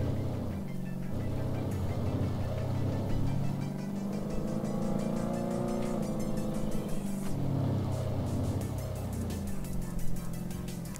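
Kenworth W900 truck engine in Euro Truck Simulator 2, a steady loud drone with shifting harmonic tones that rise and fall as it revs through the gears, continuous with no talk.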